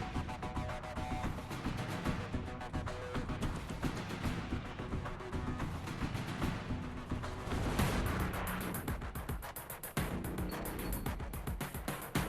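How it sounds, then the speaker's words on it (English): Tank guided missile launches and explosions on a firing range in the Tank Biathlon Android game, a dense, loud run of booming blasts and rumbling fire packed throughout with no pauses and no talk. "Now let's head over to the firing range for some good old-fashioned pyrotechnics and property damage"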